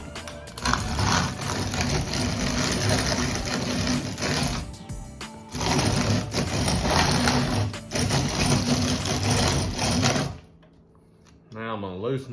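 A mill grinds nixtamalized corn for homemade tortillas, its plates tightened down, producing a loud, dense mechanical drone that breaks off briefly twice, then cuts out near the end, leaving a faint whir.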